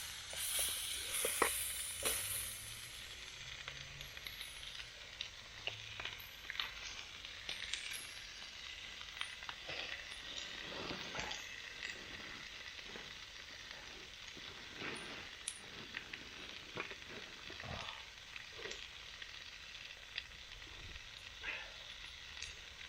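T-bone steak sizzles in a Trangia camping pan outdoors in the woods, a faint steady hiss with small crackles and pops throughout.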